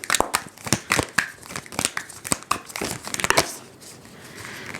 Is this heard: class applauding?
no